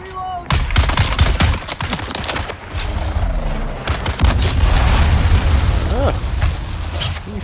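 Loud bursts of rapid gunfire and booming impacts ring out during a boss fight with a flamethrower enemy in the video game Dune: Awakening, dense and continuous, with someone talking over the shooting.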